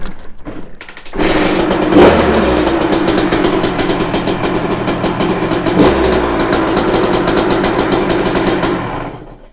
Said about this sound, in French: on va surtout voir si le moteur démarre